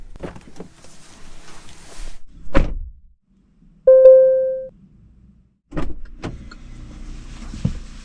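Someone gets out of a parked car: a solid door thunk, a short electronic chime-like tone, then another heavy door thud, with faint rustling and movement between, close by and without talk.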